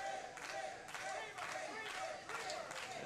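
Pro wrestling crowd at a Rampage Pro Wrestling match rallying behind Officer Jacobs, rhythmic chanting and claps in bursts, somewhat distant and under an announcer's voice.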